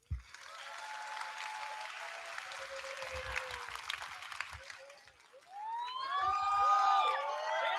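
An audience at a university commencement gives the graduating cohort a round of applause, a steady wash of many hands clapping, joined near the end by a rising, wavering siren-like tone.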